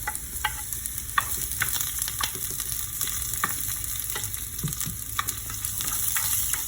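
Garlic frying and starting to brown in a pan for ginisang ampalaya (sautéed bitter melon), a close, steady sizzle with scattered crackles and light stirring, no voices.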